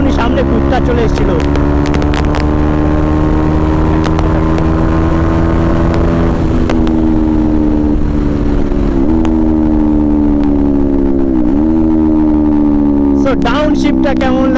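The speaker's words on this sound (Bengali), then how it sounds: "আমার বাইকের লাস্ট ডাউনশিপ এইটা মারছি আমি" A motorcycle being ridden and downshifted, its engine tone dropping and rising through gear changes with loud steady rumble, while a rider talks over it.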